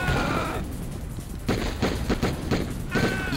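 Rapid gunfire from the Sega Saturn game Die Hard Trilogy, a run of sharp, loud shots in quick bursts filling the scene.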